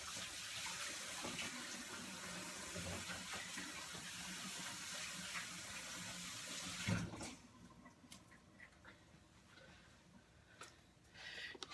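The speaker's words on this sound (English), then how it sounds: "Let me wash my hands." Hands being washed under a running kitchen tap, a close, steady rush of water for about seven seconds that then cuts off, leaving faint clinks and handling noises.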